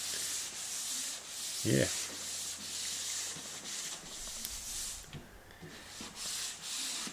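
Drywall corner sander with a slightly curved head scraping back and forth into an inside corner, a continuous close rasping grind with a brief low thump, and a short spoken word.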